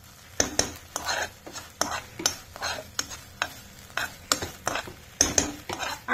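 A spice paste is stirred in a wok, with repeated scraping strokes of a spoon against the pan in a steady rhythm over a soft sizzle, close and fairly loud.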